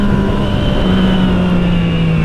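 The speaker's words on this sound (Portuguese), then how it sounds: "a moto no modo esporte fica bem mais arisca" Motorcycle engine in sport mode drones loud and close with a steady, slightly falling tone, running alone without voices.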